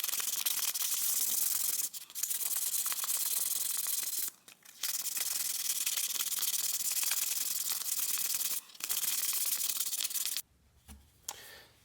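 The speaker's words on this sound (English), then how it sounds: "We're gonna start sanding her down, get her nice and smooth" Hand sanding of a clear-coated foam topwater rat lure with 400 grit sandpaper, a continuous close scratchy rasp broken by brief pauses, steady and loud throughout.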